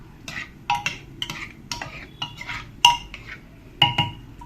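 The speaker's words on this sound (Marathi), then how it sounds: "हे जे उकडलेल्या भाज्या आहे ना ह्या याच्यात घालते मी आता मिक्स करून घेते" A spoon knocks and scrapes against a pot as boiled vegetables are mixed for sambar, a series of close, irregular clinks and soft stirring thuds with no talk.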